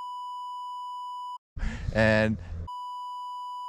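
A long steady censor beep, a pure electronic tone that runs for over a second, stops for a burst of a man's speech, then comes back and holds to the end.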